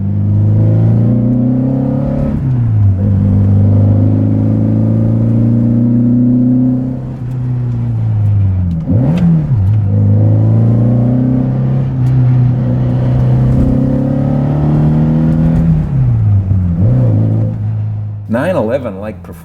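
Porsche 356 B Coupe tuned to 240hp, engine droning loudly as it pulls through the gears, pitch climbing and dropping at each shift, with a person talking over it.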